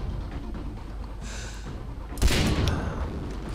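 Gunfire in Far Cry 3 sounds as a muffled burst followed by a louder, broadband blast that rings out over a low, rumbling game backdrop.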